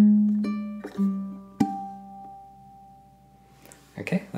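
Ukulele phrase with the bass walking down while the melody climbs, plucked notes ringing out one after another and fading, followed by a few softer string scrapes and taps near the end.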